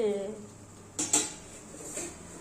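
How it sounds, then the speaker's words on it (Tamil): A pot lid is set down on a cooking pot, giving two quick metallic clinks close by, then a faint clatter in a quiet kitchen. "நம்ம வந்து இப்போ மூடி வச்சிடலாம்"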